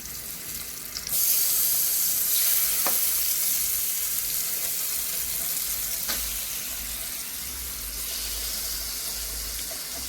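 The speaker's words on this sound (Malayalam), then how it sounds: "നമുക്ക് മീൻ വറുക്കാൻ വെക്കാം" Fish frying in a pan starts with a sudden loud sizzle, then a steady, close hiss that continues unbroken with no talking.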